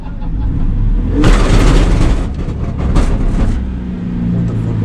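A stock six-cylinder car engine revs hard under load as first gear fails, with a loud surge of broadband roar and grinding that swells and falls in several bursts before settling to a steady idle-like rumble.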